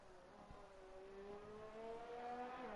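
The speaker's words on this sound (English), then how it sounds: "you can hear the cars" Formula-style racing cars at Silverstone in F1 2019, engines droning steadily with a rising, revving pitch that grows slightly louder, no voices present.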